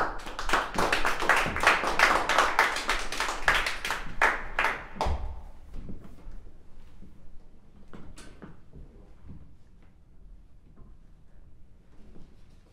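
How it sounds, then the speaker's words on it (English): A small audience claps at a violin masterclass in a violin shop: brisk, close clapping from a modest group for about five seconds, then scattered taps and faint shuffling into near quiet. "Please give her a warm round of applause."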